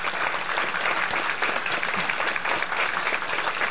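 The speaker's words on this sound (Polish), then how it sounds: "Wielkie brawa dla was" Dense, continuous applause from a crowd honoring dancers at a folk dance ensemble's anniversary jubilee, loud and sustained throughout without a break.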